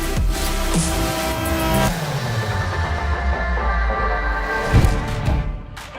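A Porsche and a Ferrari in a drag race: loud engine roar with shifting pitch as the cars accelerate, rising and falling over the few seconds, with no talk.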